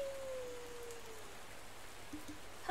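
Rain falling outside during a late-May evening, a steady soft hiss of drops that stays faint and even throughout, with no talk over it.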